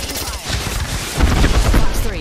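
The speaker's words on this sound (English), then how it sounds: "just shoot wildly into the air" Automatic gunfire in Apex Legends is sprayed wildly into the air as a dense, rapid burst that grows louder and heavier partway through, loud and close.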